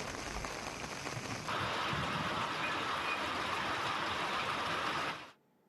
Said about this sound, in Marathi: वादळी वारा आणि विजेच्या कडकडाटासह दमदार पाऊस झालाय।